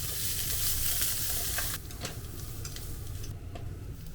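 Onions, carrots and mild green peppers stir-fried in a pan for a Japanese-style bento, giving a steady loud sizzle with scattered crackles that eases slightly partway through; no talking.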